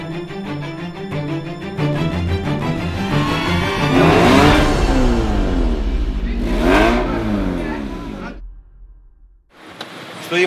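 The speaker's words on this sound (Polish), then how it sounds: "Stoimy sobie w koreczku." A car engine idles and revs in a slow traffic jam in the suburbs of Serekunda, Gambia, a steady loud drone rising and falling in pitch with passing whooshes, then cutting off near the end.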